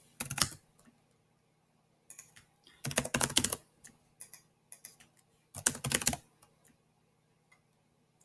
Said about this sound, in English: I know there's a lot of typing going on here.